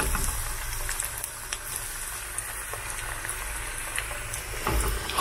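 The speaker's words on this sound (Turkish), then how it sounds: "Önce yumurtaya, sonra una banmış olduğum karnabaharları atıyorum" Cauliflower florets dipped in egg and then flour frying in oil, a dense, even bubbling crackle heard close and continuous throughout without any voices.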